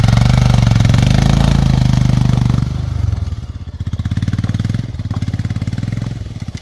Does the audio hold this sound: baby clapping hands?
no